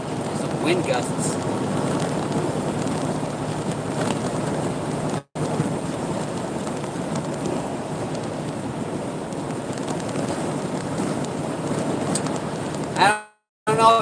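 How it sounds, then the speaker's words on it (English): Strong wind gusts roar steadily and loudly around a vehicle on the road, a broad continuous rush with brief dropouts, voices occasionally mixed in. "Some wind gusts."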